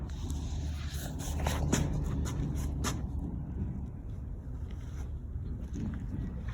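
A 1965 Ford Mustang with a swapped Coyote engine and MT82 transmission runs at a steady, deep idle rumble, with gusty wind noise buffeting the microphone.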